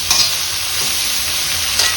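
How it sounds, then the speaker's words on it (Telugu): Chopped vegetables, tomato, ginger and curry leaves fry and sizzle in a pan for cashew upma, with a steady close hiss and two brief scrapes of stirring. "ఇవన్నీ బాగా ఫ్రై చేసుకున్నామండి, మెత్తబడే వరకు ముక్కలన్నీ."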